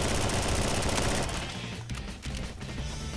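A MAC-10 machine pistol in Roblox Bad Business fires a loud, dense, rapid-fire stream for over a second, then several shorter bursts follow at a slightly lower level, with no speech.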